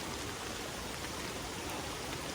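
Steady rain falls on a Scotland campsite during a motorcycle tour, a dense, even hiss of drops with no pauses, heard alone without talk.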